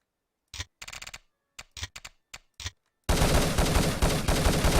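Gunfire in the Urban Terror 4.2 shooter game: several short bursts of rapid shots separated by silences, then a sustained loud barrage of continuous firing.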